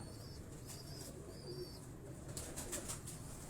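Pigeons on a rooftop loft in Johar Town, Lahore, including black-marked birds, give soft low coos under steady outdoor background noise, with a few brief flutters and rustles near the end.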